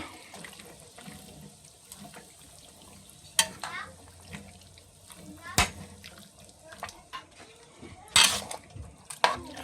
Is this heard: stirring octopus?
yes